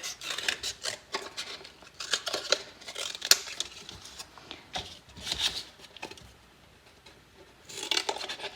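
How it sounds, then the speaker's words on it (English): Scissors cut recyclable materials into organic shapes for a balance sculpture, producing a run of close, quiet snips and rustles in irregular bursts with short pauses between them. "just cutting them kind of in half"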